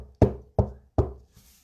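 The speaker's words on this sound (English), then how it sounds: "she knocked 4 times." Three sharp, evenly spaced knocks on a wall, each a hollow thud with a short decay, followed by a much fainter fourth tap, alone in a quiet room.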